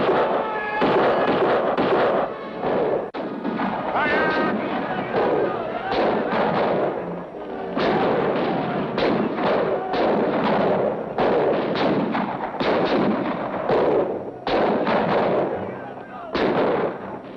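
Musket volleys fired by soldiers at the Battle of Saratoga, heard as dense, loud rolling bursts of gunfire that keep crashing over each other, with shouting voices mixed into the din.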